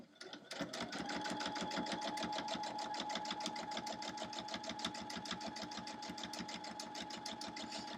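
A sewing machine quilts along a line using the edge of the presser foot, starting up after a brief pause and then running in a fast, even mechanical chatter of needle strokes, close and steady.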